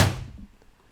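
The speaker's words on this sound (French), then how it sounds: "La porte se ferma" A single dull thump of a door shutting inside a bedroom, close and brief, fading quickly into quiet.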